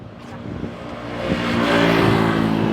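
A 2011 Toyota Altis being driven, its engine hum steady at first and then swelling as the car gains speed, heard from inside with no talking.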